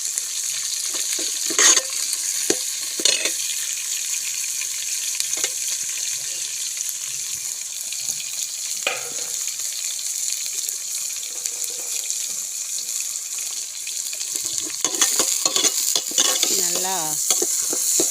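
Curry leaves and garlic frying in a pan over a wood-fire stove for a fish and brinjal curry: a steady hiss of sizzling oil runs throughout, with scattered scraping clinks of a spoon stirring. A brief spoken word is heard.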